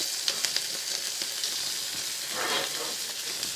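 Shrimp sear in a hot pan for a spicy shrimp dish, a loud, close, steady sizzle with crackling pops that swells briefly, and no talking.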